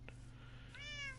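A cat meows once in a Minecraft game on PS4, a short rising-falling call over a low steady background hum, with a faint brief chirp just before it.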